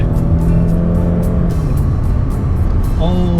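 Steady engine and road rumble from inside a Genesis or Kia K9 large luxury sedan, building as it accelerates, with a navigation voice speaking briefly near the end.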